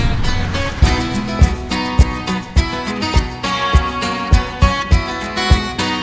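A phone book struck as a drum in a song lands as a steady, regular deep thud about every half second, mixed loud within full music with synths and other instruments.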